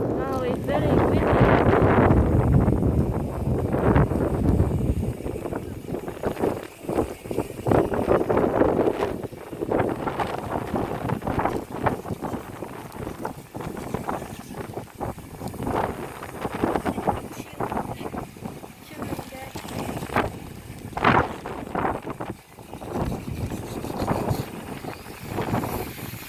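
Gusty wind in District 2, Ho Chi Minh City, Vietnam buffets the microphone in heavy low rumbles, strongest at first, then coming in uneven bursts.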